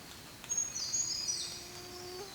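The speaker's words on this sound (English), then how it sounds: "Woke up to the sound of a million birds this morning" Birds calling in misty rainforest on K'Gari island, Australia, heard at dawn from a tent; a few high chirps and a brief trilling call sound at moderate distance over a steady, quiet background.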